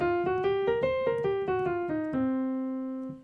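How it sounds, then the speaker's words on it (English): A blues scale played note by note on a single melodic instrument, roughly a dozen clear, evenly paced tones stepping through the scale, with the last note held and fading out. "There's also a blues scale, which sounds like this."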